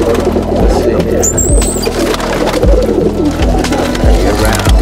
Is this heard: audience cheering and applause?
no